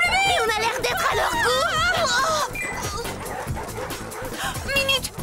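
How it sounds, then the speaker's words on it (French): A hungry horde of werewolves barks, yips and whines in a frantic, overlapping pack chorus, loud and close, over a busy chase scene with rushing background noise. "lâchez la horde de loups!"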